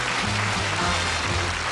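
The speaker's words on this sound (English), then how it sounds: "a nice warm round of applause for Jockey Wilson." Studio audience applauding on a British darts game show, a steady dense wash of clapping filling the whole stretch with a low hum underneath.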